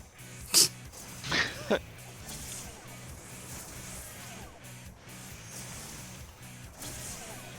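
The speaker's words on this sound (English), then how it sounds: "now it's my turn to need to sneeze." One sharp sneeze bursts out close to the mic, followed by a couple of quick sniffs or breaths, then only quiet background sound during an online game session.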